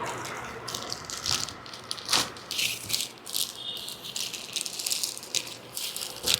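A parcel holding a book is torn and unwrapped close by, with crinkly plastic rattling and rustling in uneven bursts throughout.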